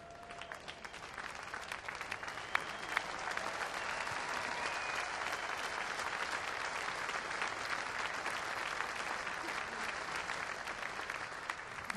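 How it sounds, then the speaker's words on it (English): A baseball stadium crowd applauds steadily throughout a ballpark tribute, a broad, dense wash of clapping at constant loudness with scattered cheers. "how about one more round of applause"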